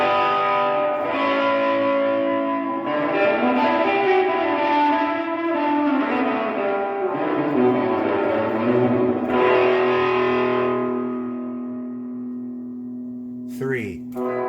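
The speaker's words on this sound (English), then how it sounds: "I'm going to turn the gain all the way down, and I'm going to turn the reverb up to, well, all the way" Electric guitar played through a Gibson GA-15 RVT Explorer amp with the gain all the way down and the reverb turned all the way up. Clean sustained chords and notes wash into long reverberant tails, ringing out near the end before a brief voice.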